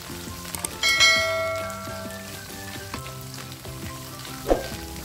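Bicol Express ingredients sizzle in a pan as they are stirred: a steady frying hiss with occasional utensil clacks and scrapes, and soft tonal music underneath.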